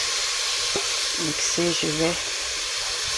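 Blended tomato seasoned with white pepper fries in a pot, giving a steady sizzling hiss, while someone speaks briefly over it.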